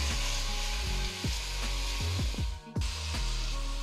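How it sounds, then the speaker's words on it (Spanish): Chile and onion fry in a pan with a loud, continuous sizzle, broken by several scraping stirs. "el chile junto con la cebolla. Y dejamos que se fría un poquito para luego poner los bisteces."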